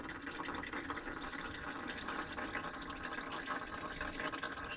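Transfer case fluid from a 2024 Chevrolet Silverado 2500HD draining out of the case after the plug is pulled, a faint, continuous trickling and dripping of liquid close by with no talk.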